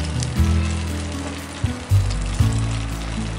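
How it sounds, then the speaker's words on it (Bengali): Garam masala goes into a pan of Bengali aloo dum, a Kashmiri shahi-style potato curry, as it cooks, giving a steady, close frying sizzle with a few soft bumps and stirring clatters on top, and no voices. "এখন গরম মশলাটা এর মধ্যে দিয়ে দিচ্ছি।"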